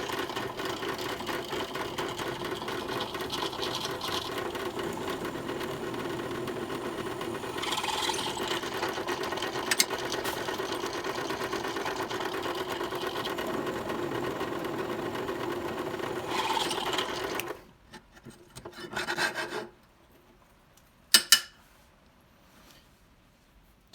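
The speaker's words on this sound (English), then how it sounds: "clamp them together and drill this one" Drill boring 8mm holes through clamped metal parts for a vintage oil tank, a steady mid-pitched whine running continuously for most of the time, then stopping, followed by a few short clanks and knocks.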